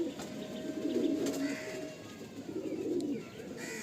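Madrasi pigeons coo softly in short, low, repeated phrases. The calls sound close and fairly quiet, and a faint whistle and light background noise run underneath.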